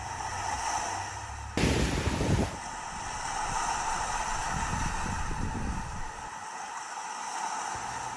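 Sea waves wash in against rocks at a small harbour in Samcheok, South Korea, over a backdrop of wind noise, with a louder gusty burst of surf early on, then steady rushing water.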